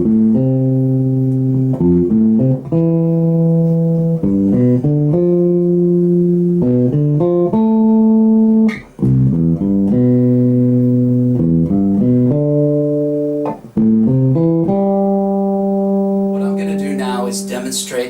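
A 4-string bass plays a diatonic 2-5-1 arpeggio exercise with clear, evenly spaced plucked notes that climb and fall through each chord. It sounds close and steady, with no talking.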